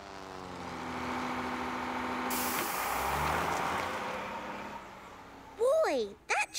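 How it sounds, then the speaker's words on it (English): A cartoon truck's air brake hisses in a long, loud, broad whoosh that swells and fades over several seconds, followed by someone speaking. "Boy, that truck makes the loudest sound ever!"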